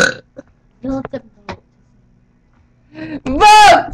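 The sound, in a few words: burping contest burp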